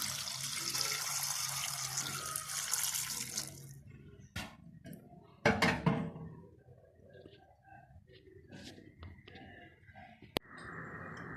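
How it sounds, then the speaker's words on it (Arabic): Tap water runs steadily into a pot of cow trotters and chickpeas for about four seconds, then stops, leaving clicks, clatter and kitchen handling noises. "نزيد واحد شويه ديال الروح"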